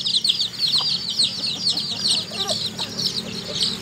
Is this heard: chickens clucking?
yes